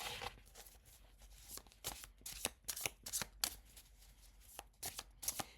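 A deck of oracle cards is shuffled close up, quiet riffling and snapping card flicks repeating in quick bursts, with no talk.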